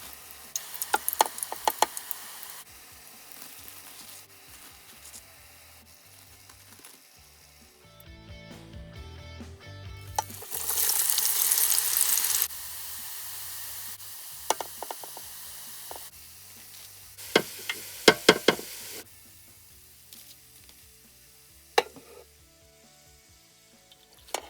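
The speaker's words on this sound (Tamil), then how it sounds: "இதுக்கு முதல்ல இந்த கத்திரிக்காயும் வெங்காயம் பொரித்து எடுப்போம்." Eggplant and onion fry in hot oil, heard as an uneven sizzle that swells into a louder burst of spitting midway, mixed with scattered clinks and taps from utensils and some background noise, close by with no talking.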